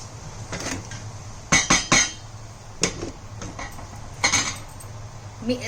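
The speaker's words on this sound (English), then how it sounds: "so we will close the lid now for some time" Metal clinks and clatters of a lid being set down on a pan of keema, several sharp knocks in short bursts over a low steady hum from the stove.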